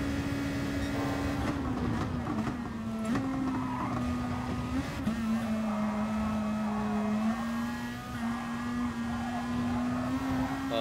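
Race car engine in the driving game GT Sport, a steady, moderately loud droning tone that shifts pitch slightly with gear changes and throttle, without talk.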